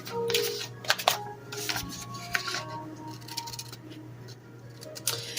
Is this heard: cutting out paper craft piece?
yes